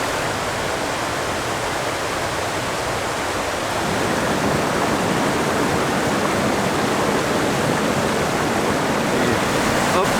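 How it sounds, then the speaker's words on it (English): Creek water rushing steadily at a backpacking creek crossing in Great Smoky Mountains National Park, Tennessee, a dense continuous broadband roar that grows louder partway through, close and unbroken. "We got a little bit of a creek crossing, more challenging to do here."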